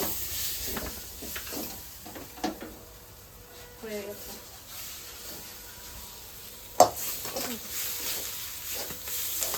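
Tender leafy greens sizzle quietly in a hot wok in a home kitchen, with intermittent stirring scrapes and one sharp clank of metal near the end, under scattered nearby talk.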